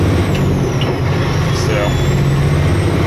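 A truck idles with a heavy low engine rumble, and a sharp hiss of air brakes rises faintly above it while someone speaks briefly.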